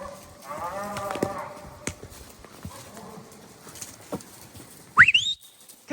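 Cattle moo in the open while being gathered on horseback among fall-colored woods with deadfall, one long low moo early on, then scattered hoof thuds and rustling, a sharp bird-like whistle near the end.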